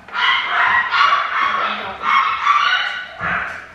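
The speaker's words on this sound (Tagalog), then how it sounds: "Ang mga aso, ang ingay." Dogs bark and yip repeatedly in quick bursts, fairly close and loud, with no talking.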